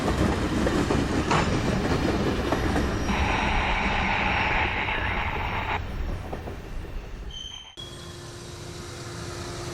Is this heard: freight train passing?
yes